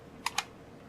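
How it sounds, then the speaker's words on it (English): Two quick, light key taps on a computer keyboard come in rapid succession, faint against a quiet room background. "And then I just have to type the last two numbers"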